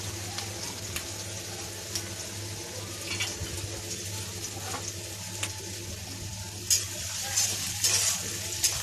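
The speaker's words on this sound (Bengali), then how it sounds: "পেঁয়াজটা একটু হালকা ভাজা ভাজা করে নেব" Chopped onion frying in a pan with a continuous close sizzle, intermittent spatula scrapes and louder stirring bursts toward the end, no one talking.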